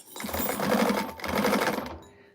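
A sewing machine runs steadily while stitching a quilt block, an Irene pattern by Shamballa, with two long continuous bursts of close motor whir separated by a brief pause, stopping near the end.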